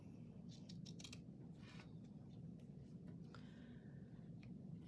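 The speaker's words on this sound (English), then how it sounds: "if it's gathered lace, I cut this off" Scissors cut gathered lace off fabric: faint, quiet snips and crisp clicks scattered over a low background hum, with no talking.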